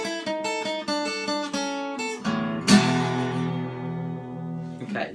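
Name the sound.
guitar riff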